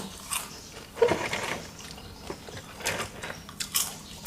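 Crispy fried sugarcane beetle grubs are bitten and chewed close up, giving a few crunchy bites followed by softer chewing crackles.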